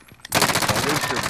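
Rapid automatic gunfire in a search-and-destroy video game, a loud continuous burst of close shots starting abruptly after a faint click.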